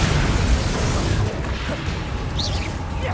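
A Bombarda spell explosion in Hogwarts Legacy lands as a loud, dense blast, then rumbles and crackles on as debris settles.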